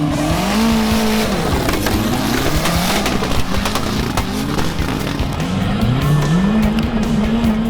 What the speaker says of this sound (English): We're set for a big day of off-road racing.